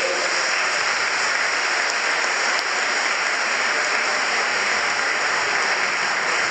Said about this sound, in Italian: Soprattutto un grazie e un applauso al coro.